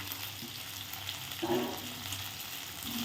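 Onions and dried coconut for a fish curry sautéing lightly in a pan, a low steady sizzle with a brief stir in the middle.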